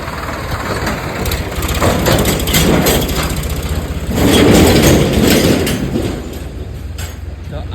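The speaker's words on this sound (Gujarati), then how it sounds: "એક મિનિટ આ ટ્રેક્ટર જાય છે" A tractor's heavy engine rumbles loudly nearby, swelling as it passes, with a steady low chugging throughout and no voices.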